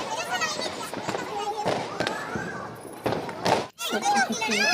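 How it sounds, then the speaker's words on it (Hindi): Firecrackers going off for Diwali at a housing society gate, with sharp bangs and crackles, one loud burst near the end, over constant chatter from a crowd of people close by. "यहाँ पे गेट पे सब लोग मिलकर जो है पटाखे छोड़ रहे थे।"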